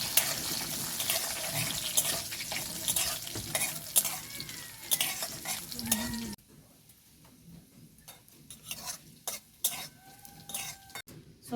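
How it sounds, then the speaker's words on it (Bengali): Crushed ginger and a dried chili are stirred in a hot pan while panch mishali ghonto is cooked: a loud sizzle with spoon scrapes, then a quieter stretch of scattered stirring clicks and taps. "দিয়ে দেবো থেতো করা আদা, দিয়ে দেবো একটা শুকনো লঙ্কা। ভালো করে নেড়ে চেড়ে মিক্স করে নেব।"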